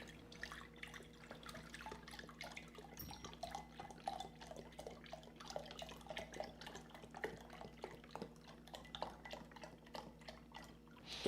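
Beef broth poured from a measuring cup into a pan for cooking rice, a steady liquid trickle and dripping over a low kitchen hum, with no talking.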